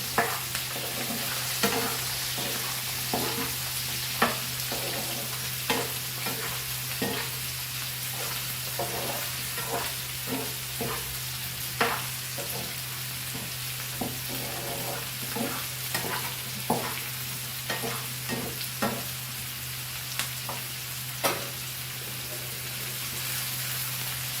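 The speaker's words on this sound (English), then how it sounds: "that side my potatoes are getting nicely fried" Potatoes frying in a pan for Goan fried rice, a steady moderate sizzle with repeated sharp scraping knocks of a spatula stirring at a fairly regular pace, and a low hum beneath.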